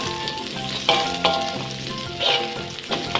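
Garlic and shallots sizzle in hot oil in a pan while being stir-fried, a loud continuous crackle with sharper bursts each time the spatula scrapes and tosses the mixture.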